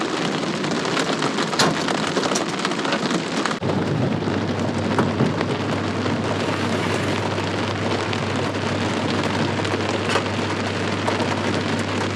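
Pea-sized hail falls steadily outdoors in a spring storm, a dense, loud, continuous patter of pellets striking surfaces, with a low steady rumble joining partway through.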